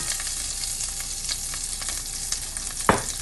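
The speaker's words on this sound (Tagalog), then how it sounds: "Igisa natin ang sibuyas." Onion sautés in butter and olive oil, a steady close sizzle with a sharp spatula clack near the end and no voices.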